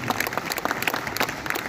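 A mushaira audience claps at a poetry gathering in Nizamabad, dense steady applause from a sizable crowd filling the whole moment.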